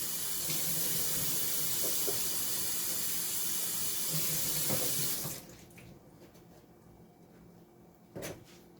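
Kitchen tap water runs steadily as brine is rinsed off cow foot for a Jamaican cow foot and broad bean stew, then the flow stops and a soft clunk follows.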